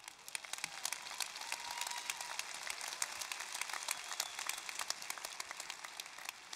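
A crowd applauding steadily, dense scattered claps at a moderate distance, with no talking over it.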